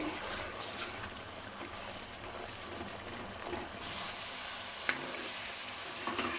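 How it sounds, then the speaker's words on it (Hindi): Softened onions are mashed while chicken fries with spices in a pot for aloo gosht, a steady close sizzle with faint scraping and a couple of sharp utensil knocks, no talk. "अभी हम इनको मैश करते जाएंगे और साथ में हम चिकन को भूनते जाएंगे।"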